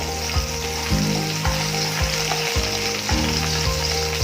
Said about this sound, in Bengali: এবার এতে আমি প্রথমে রসুন কুচিগুলো দিয়ে দেবো, কাঁচা লঙ্কা দিয়ে দেবো